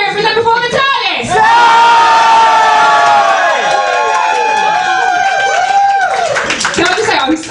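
A live audience at a Doctor Who comedy night cheers loudly, with shouting, whooping and clapping filling the room for several seconds. A host's voice sounds briefly at the start.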